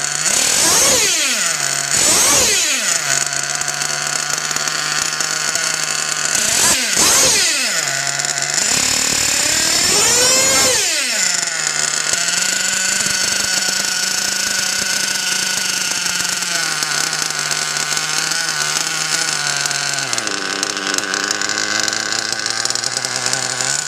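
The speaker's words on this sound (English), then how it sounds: "You can hear how inconsistent the idle is. It'll probably cut out." A nitro RC car engine, a Mugen MBX6R buggy, idles unevenly and sounds close and loud, its buzzing pitch surging and sagging with several sharp blips of revving before it settles into a rough, wavering idle.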